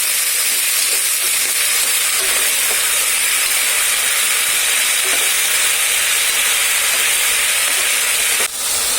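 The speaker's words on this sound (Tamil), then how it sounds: "முள்ளங்கியை நல்லா வதக்கிக்கலாம்" Radish sautéing in a pan, a steady broadband sizzle and hiss holding evenly throughout, close and fairly loud, with a brief soft knock near the end and no voices.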